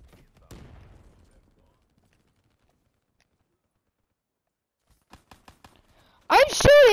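Gunfire in the Call of Duty video game: after a mostly quiet stretch with a few soft sounds, several sharp evenly spaced shots ring out, followed by a louder sustained burst of electronic game noise at the end.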